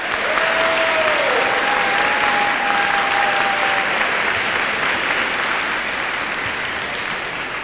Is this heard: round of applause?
yes